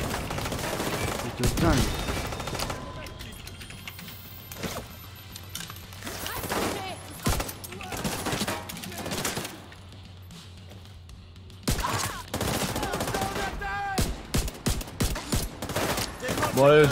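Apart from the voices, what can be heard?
sniper rifle shots in a video game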